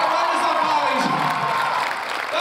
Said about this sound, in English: And a big round of applause for my true A-train dancers.